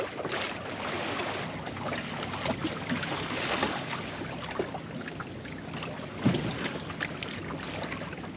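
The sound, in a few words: small sailboat with flapping sails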